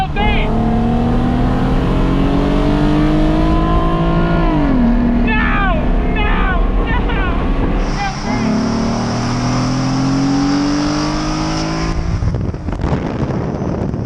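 A modified V6 Mustang drag-racing a mostly stock thirty-year-old Mitsubishi Eclipse DSM, loud engines revving and climbing through gear shifts, with a turbo-like whine joining later, close and continuous over faint voices.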